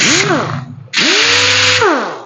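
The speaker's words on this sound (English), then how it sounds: "you're going to try using a sander on primer, start the machine on the surface" A power sander on a primed surface spins up, cuts off, then starts again with a loud whirring hum that winds down, close and alone.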